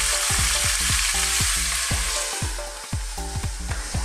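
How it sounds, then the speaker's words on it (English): Pork ribs adobo in coconut milk bubble in a pan, a steady dense sizzle with a mild fluctuating texture, close and continuous with no voices. "Cover this simmer for about 10 minutes"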